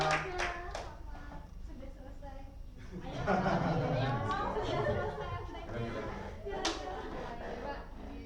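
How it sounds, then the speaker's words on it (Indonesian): Scattered hand claps at the start give way to audience applause mixed with crowd chatter and voices at a teaching session, moderately loud and sustained to the end. "Berikan tepuk tangan untuk"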